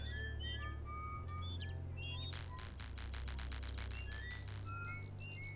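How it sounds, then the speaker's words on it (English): A parrot squawks in the point-and-click adventure game Indiana Jones and the Fate of Atlantis, its repeated shrill chirps layered over a steady low hum and other game bird calls. "Stupid parrot."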